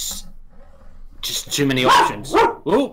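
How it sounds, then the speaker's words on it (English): A pet dog barks a few times close by during a wrestling podcast recording, sharp yappy barks overlapping and following a man's speech. "And we have a dog on the podcast, people. Sorry, I should say that's my dog."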